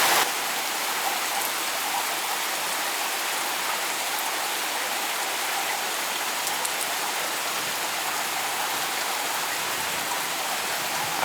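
Steady rain falls on the Rwandan rainforest with no wind, making an even, dense hiss that continues without a break.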